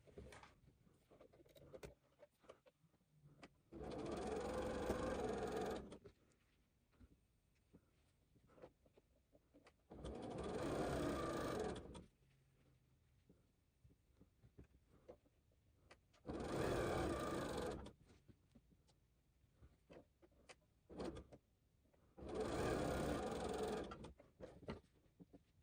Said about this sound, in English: we sew a line parallel to the line we did before